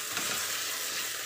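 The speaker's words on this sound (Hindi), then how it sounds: "अब बस प्याज ब्राउन होने का इंतज़ार है।" Onions frying in a pan until brown for Jammu-style rajma make a steady, dense sizzle that holds at an even level throughout with no voices.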